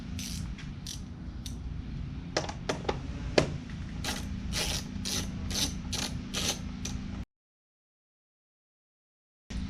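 Ratchet spinning 8mm bolts off the air box of a Ford Focus ST, a run of quick clicking bursts with creaks close by, ending in a short silence.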